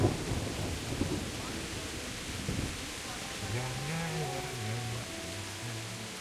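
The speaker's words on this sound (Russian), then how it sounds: "Дождь сегодня?" Rain hisses steadily in the medieval Bohemian world of Kingdom Come: Deliverance while a low roll of thunder rumbles underneath, joined partway through by droning, tonal background music.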